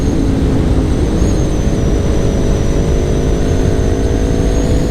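A modified Yamaha MT-03 motorcycle being ridden, its engine droning loud and steady at a constant pitch with wind noise mixed in.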